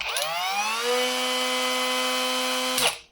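A Leader 76mm cordless mini angle grinder spins up to a steady high-pitched whine, holds it for a few seconds at close range, then cuts off and winds down.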